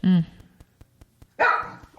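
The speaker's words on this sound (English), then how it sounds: "Oh, that's my dog." A dog barks twice, close and loud, a short deep bark followed by a longer, higher bark after a pause filled with faint regular ticking.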